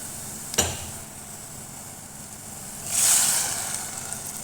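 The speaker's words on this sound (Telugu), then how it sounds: "మగ్గిపోయినాయి ఇప్పుడు వాటర్ వేసేసుకుందాం" Water is poured into a pan of cooked vegetables for semiya upma, with a single soft knock followed a few seconds later by a brief rush of hissing sizzle that swells and settles against a low background.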